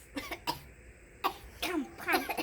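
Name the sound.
coughing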